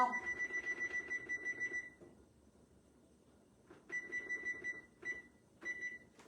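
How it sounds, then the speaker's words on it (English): A kitchen timer beeps in rapid repeated bursts for about two seconds, goes quiet, then sounds again in several shorter beeping bursts as it is set, fairly close and clear. "let me set my timer"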